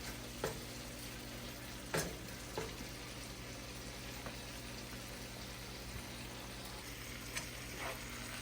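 Shrimp and scallops in a garlic butter wine sauce sizzle softly in a pan, a steady low frying hiss with a few scraping stirs of a utensil spaced through it.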